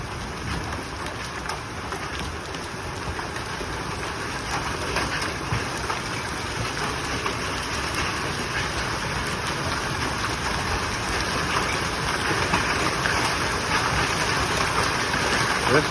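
Hail pelting down in a violent storm, a dense, steady roar of impacts that holds loud and continuous throughout, with wind and rain mixed in and no clear voices.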